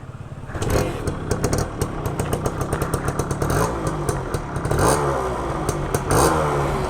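An almost 30-year-old vintage motorcycle engine revs loudly and close, a rapid staccato exhaust rising and falling through several throttle blips with a rattly, two-stroke-like clatter.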